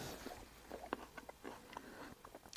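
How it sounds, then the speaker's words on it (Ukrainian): Quiet, crisp crunching as a knife slices through a firm, crunchy berry, a series of short snaps close to the microphone. "Цей звук, коли ножем проводиш, такий хрумтить."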